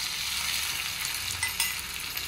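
Curry leaves and dried red chilies frying in hot oil for a tadka with cumin, a steady close sizzle and crackle with a few brief pops and no talking.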